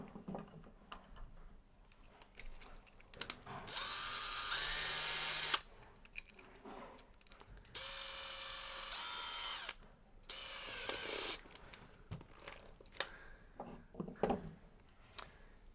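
Power drill fitted with a pozidrive bit driving screws while fitting an Aladdin EasyFit isolator valve, several bursts of whirring separated by short pauses and light ratcheting clicks, fairly close.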